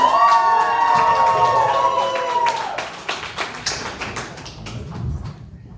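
A comedy club audience cheers, whoops and applauds as a comedian is introduced, the cheering dense at first and then thinning into scattered clapping that fades out.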